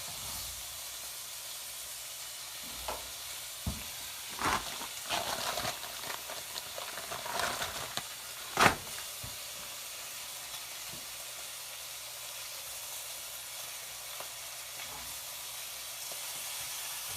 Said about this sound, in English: Dropping that bacon onto the pan.